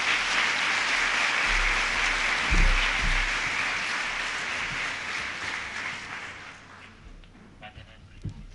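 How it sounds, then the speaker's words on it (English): Audience applause fills a public talk hall after a speaker is invited on stage, a dense steady clapping that holds strong, then thins and fades toward the end. "please give them a warm round of applause"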